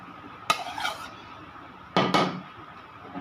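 A spoon clatters against a bowl while fruit chaat of grapes, kiwi, pomegranate, banana and kinnow is mixed. There are two close, distinct bursts of clinking and scraping, with quiet in between.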